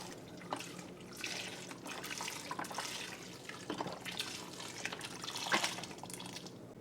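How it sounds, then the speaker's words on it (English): Beef stock pours into a soup pot of Maryland crab soup, a soft irregular splashing and trickling of liquid that swells and fades in bursts, faint and close, with no talk. "Then I'll add in my beef stock."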